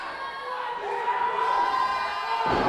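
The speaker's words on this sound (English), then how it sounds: "this crowd's calling for more lucha" Wrestling crowd in an arena cheering and shouting loudly and steadily during a lucha-style match, a dense roar that swells near the end.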